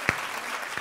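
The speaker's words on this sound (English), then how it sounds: "let's give them all a round of applause" Audience at a book event applauding the authors, a brief burst of clapping from a crowd in a hall with a couple of sharper individual claps.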